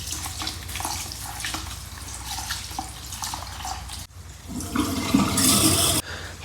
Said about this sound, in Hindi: चावलों को अच्छी तरह धो लिया है